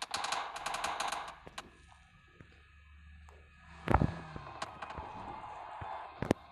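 Bursts of rapid gunfire in PUBG Mobile crackle at the start, followed by scattered single shots and a loud blast partway through, with quieter gaps between.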